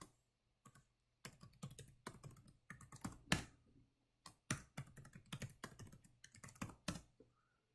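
A password typed on a computer keyboard during a SQL Server install on Red Hat Linux: quick bursts of crisp keystrokes separated by short pauses, close but quiet, with no voices.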